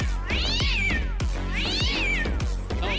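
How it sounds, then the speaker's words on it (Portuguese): A cat meows loudly and close by in repeated drawn-out calls, two long rising-and-falling meows with short sharper sounds between them. "Mais um gato."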